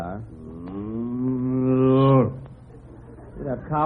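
A close, loud cow moo rising in pitch and holding for about two seconds before cutting off, then quiet rustling and a brief start of another call, on a farm.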